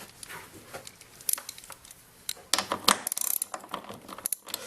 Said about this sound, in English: using our Allen bits here, so what we'll do is we'll take our socket extension